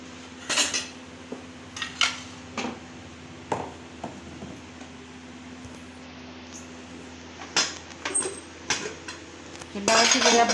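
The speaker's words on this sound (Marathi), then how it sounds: "तोपर्यंत आपण फोडणी करून घेऊया। तेल घालायचं 1 चमचाभर।" Metal spoon clinking against a pan while a spoonful of oil is added for tempering dal khichdi, with sharp scattered clinks and scrapes at moderate loudness over a quiet kitchen background and a steady low hum.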